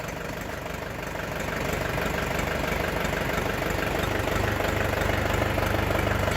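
A large Orion GD 404 Pro tractor engine idles with a steady, rumbling drone that holds even throughout, with no voices.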